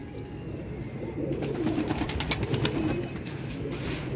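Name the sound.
pigeons cooing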